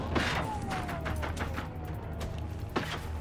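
Enemy gunshots in the video game Generation Zero ring out as a rapid volley of sharp cracks, with a louder burst early on and another late crack over steady background game noise.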